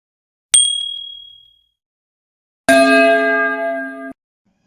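A notification bell sound effect plays two clean metallic dings: a short bright strike that rings down and fades, then after a pause a louder, fuller chime that sustains evenly before cutting off abruptly, heard alone with no talk.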